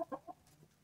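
Young chickens, about 90 days old, in a farm coop give a few short clucks near the start, then fade to quiet background.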